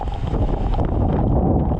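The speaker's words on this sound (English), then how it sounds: "These are probably 50 mile per hour wind gusts right now." Heavy, continuous Hurricane Elsa wind gusts of around 50 mph on the Gulf coast roar across the whole clip, loud and close, with a low rushing rumble and no pause between gusts.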